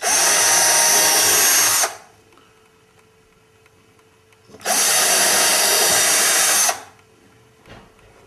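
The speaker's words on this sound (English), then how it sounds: "So I'm gonna drill a hole." Cordless drill boring pilot holes in wood, two loud whirring bursts of about two seconds each separated by a quiet pause, with a faint click near the end.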